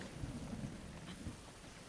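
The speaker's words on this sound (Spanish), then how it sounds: "Aquí siempre va a estar lloviendo." Rain and a low rumble of thunder play in The Legend of Zelda on Nintendo Switch, a faint, steady storm bed with no talk over it.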